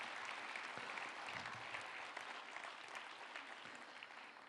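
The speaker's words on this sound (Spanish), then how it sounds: "Démosle un aplauso a nuestros jóvenes." A congregation at a church service applauds its young people with steady, dense clapping that holds evenly throughout and fades slightly toward the end. The applause sounds fairly faint and comes with no speech.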